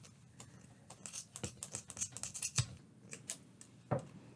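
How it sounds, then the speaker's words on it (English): Scissors cutting yarn loops on a baby beanie, a quick run of close, quiet snips and clicks. "Start cutting those loops."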